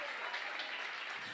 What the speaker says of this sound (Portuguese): Você pode aplaudir o Senhor pela sua poderosa palavra.